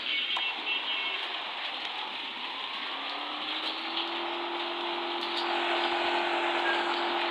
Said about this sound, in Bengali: সো এই জায়গায় বৃষ্টি হচ্ছে